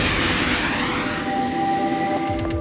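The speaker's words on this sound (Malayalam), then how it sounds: "ഹെലികോപ്റ്റർ സ്റ്റാർട്ട് ചെയ്യാൻ" A helicopter turbine spins up with a loud, steady roar and rising whining tones, close and continuous, with no voices over it.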